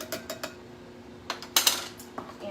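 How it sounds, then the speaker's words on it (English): Flour and baking soda whisked together in a bowl: a few quiet, close, irregular clinks and scrapes, with short pauses between strokes and no talking. "I'm just going to whisk these dry ingredients together"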